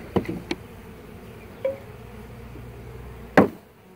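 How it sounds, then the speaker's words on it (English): Honey bees hum faintly in the background during a hive installation while a few sharp knocks and taps break in now and then. "these are extremely gentle stock bees, but keep in mind, all bees do sting"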